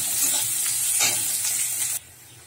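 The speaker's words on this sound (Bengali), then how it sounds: "দেখো পেঁয়াজটা ভেজে নিয়েছি" Chopped onion, garlic, ginger and chilli fry in hot oil, making a loud, steady close sizzle with a few stirring scrapes. The sizzle cuts off sharply near the end.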